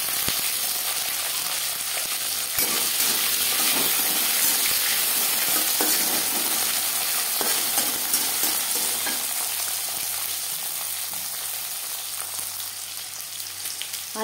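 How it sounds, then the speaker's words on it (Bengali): Carrots and beans fry in oil with cumin seeds, dried red chilli and bay leaf, giving a loud, continuous crackling sizzle with scattered sharp pops and scraping stirs close by, no voices. "10-15 সেকেন্ড জিরে, শুকনো লঙ্কা, তেজপাতা ভেজে নেওয়ার পর দিয়ে দেব গাজর,"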